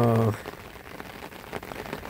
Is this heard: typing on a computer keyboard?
no